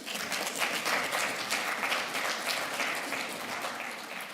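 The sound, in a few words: audience applause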